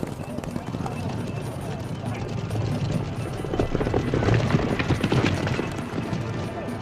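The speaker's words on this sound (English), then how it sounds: "the horses don't gallop but trot" Rhythmic hoofbeats of trotting horses mixed with a steady mechanical drone, with voices and crowd noise in the background.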